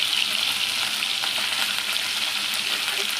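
Drumstick pieces cut small are tossed into a frying pan and stirred for a potato, tomato and raw mango curry, giving a steady bright sizzle with soft scraping, close and continuous.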